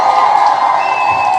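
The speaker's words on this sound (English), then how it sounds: "Let's give them a huge round of applause." A crowded audience cheers and applauds loudly and steadily, the whoops and clapping blending into a dense, continuous roar that holds from start to finish.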